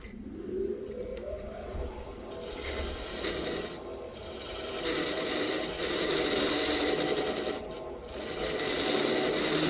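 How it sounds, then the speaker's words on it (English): A wood lathe spins while a tool's toe scrapes and cuts a tenon for a threaded scoop, making a continuous rasping, rubbing grind that swells and dips with brief lulls between passes. "We'll slow the lathe down, touching just this toe here."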